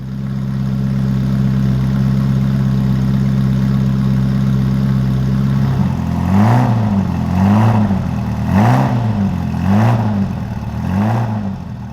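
Engine on a Ferrari supercar with a Tubi exhaust: a steady idle for about six seconds, then five rhythmic throttle blips that rise and fall, loud and close, with no one talking.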